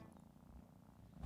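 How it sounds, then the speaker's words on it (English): A kitten purring softly up close, a steady low rumbling vibration with nothing else around it. "It's the sound of a kitten purr."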